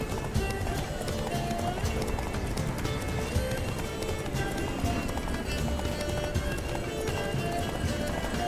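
A horse gallops in The Witcher 3 video game, its hooves drumming in a fast, continuous clip-clop under game music and ambient effects, with a voice talking over it.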